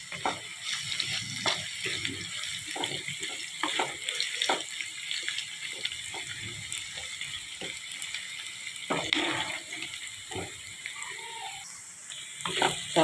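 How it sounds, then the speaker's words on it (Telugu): Bitter gourd pieces fry in hot oil, a close, steady sizzle and crackle with scattered sharper pops and occasional stirring scrapes, with no talking. "చూస్తారండి ఎలా వేగుతున్నాయో నూనెలో."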